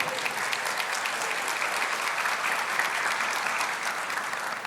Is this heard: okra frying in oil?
no